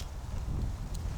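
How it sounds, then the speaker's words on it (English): Wind buffeting the microphone in a low, steady rumble for a brief moment. "But it's still windy, still windy."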